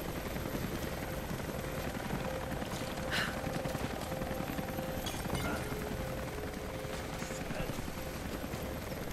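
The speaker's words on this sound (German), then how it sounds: "Der Hubschrauber nervt noch ein bisschen." Helicopter in the video game Rise of the Tomb Raider, a steady rotor drone running through the whole stretch at moderate level, with faint game effects and occasional talk over it.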